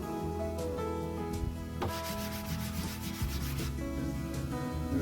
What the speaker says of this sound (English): Let me go over the surface with a microfiber.